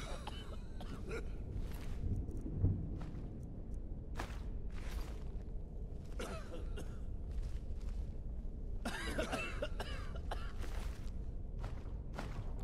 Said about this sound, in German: Die haben aber ganz schön Husten